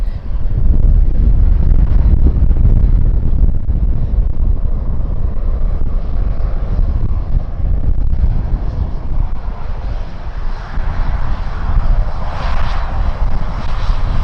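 An airliner in Lạc bird livery takes off at Tan Son Nhat airport, a loud, sustained engine roar that swells and shifts as it powers away, buffeted by heavy wind noise on the microphone.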